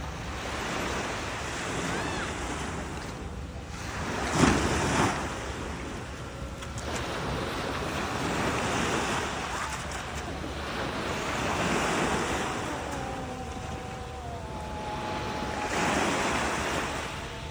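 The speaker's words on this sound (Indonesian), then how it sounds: "kita berada di satu tempat pantai yang cantik" Ocean waves wash onto a pretty beach near Palu, rising and falling in broad swells every few seconds, with steady wind rumbling across the microphone and no voices.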